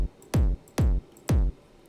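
Three heavy distorted phonk drum hits in an FL Studio beat, evenly spaced and booming with a deep sustained low end, loud and alone.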